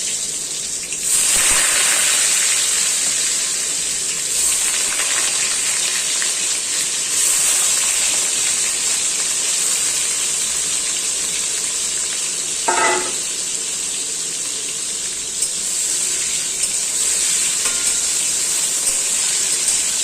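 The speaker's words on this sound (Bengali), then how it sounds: "এবার আমি আলুগুলো ভেজে নেব।" Potatoes frying in hot oil in a wok give a steady, loud sizzle and hiss throughout, with a brief scraping stir partway through and no voices.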